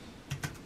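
A few quiet computer keyboard keystrokes tap close by while coding, two or three soft clicks over faint room hiss.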